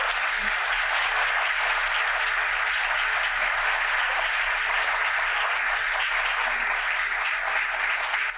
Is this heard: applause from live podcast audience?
yes